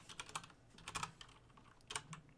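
Typing on a computer keyboard up close, with rapid, uneven clusters of crisp key clicks and short pauses between bursts.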